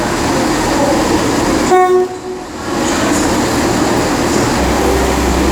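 Transport for Wales unit 197012 passes at Shrewsbury on a service to Crewe. A loud, close, continuous rumble of wheels and engine is broken by a short horn blast, with no talking.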